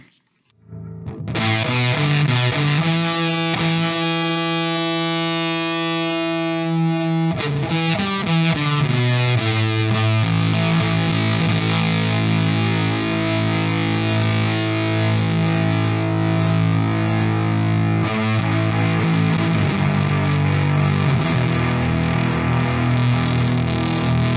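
An electric guitar through a Death by Audio Apocalypse Fuzz pedal plays sustained, saturated chords and notes, loud and continuous, with a thick buzzing tone.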